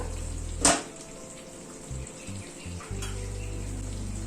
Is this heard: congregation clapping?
no